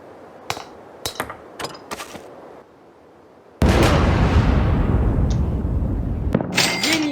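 A bomb blast in The Henry Stickmin Collection game, a few sharp clicks and knocks, a short hush, then a sudden loud explosion whose roaring rumble sustains and slowly fades, ending with crisp impacts.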